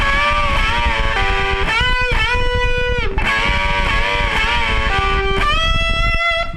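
Distorted electric guitar playing string bends from a song's solo, loud sustained notes bending up in pitch, several bends in a row, close and alone.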